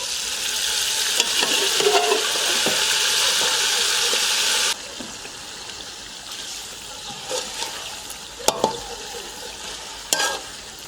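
Mutton karahi cooks in a pan with a loud, steady sizzle and stirring at first, then drops to a quieter simmering hiss broken by a few sharp scrapes and clinks near the end.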